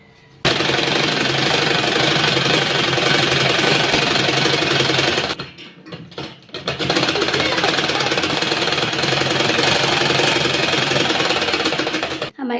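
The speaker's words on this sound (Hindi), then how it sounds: "अब हम यहाँ से एक सिलाई इस तरह से लगा लेंगे।" A sewing machine runs in a loud, continuous burst stitching a shirt collar, pauses briefly for about a second, then resumes steady fast stitching until it stops.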